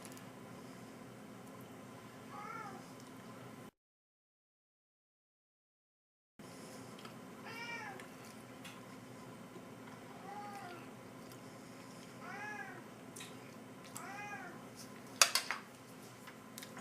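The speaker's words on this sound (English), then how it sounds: "Cat wants to star in this video." A domestic cat meows several times indoors, short rising-falling cries at moderate distance, repeated at intervals over a quiet room hum, with a brief clatter of dishes near the end.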